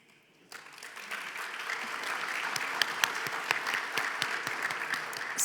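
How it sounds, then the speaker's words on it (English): An event audience breaks into applause that starts abruptly and builds into steady, fairly distant clapping with individual sharp claps standing out, continuing to the end. "can you give a round of applause"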